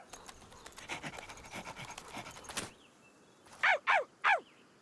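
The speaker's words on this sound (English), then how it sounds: "Is the dog friendly?" A cartoon dog pants in quick, rhythmic, breathy bursts for a few seconds. Three sharp, squawking calls follow after a short pause.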